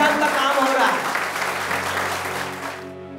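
Audience applause at a diabetes awareness gathering in India: dense, sustained clapping from a large crowd that slowly fades, with voices emerging near the end.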